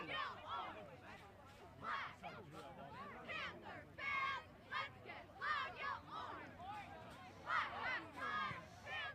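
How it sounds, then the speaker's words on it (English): A high school cheer team chants and yells rhythmically at a boys soccer regional semifinal under the lights, with repeated shouted phrases carrying over crowd murmur and an announcer's commentary. "The Oregon cheer team doing a nice job tonight."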